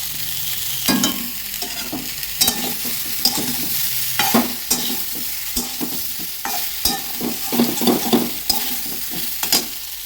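Fried cauliflower sizzling in a pan is stirred with repeated scraping strokes, a steady hiss of hot oil under irregular clinks and scrapes from the spatula, close up with no talking.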